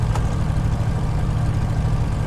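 A simulated Avro Lancaster four-engine bomber, engine number 4, turns over and runs in Microsoft Flight Simulator as a steady, loud low rumble and drone with a brief click near the start, no voices.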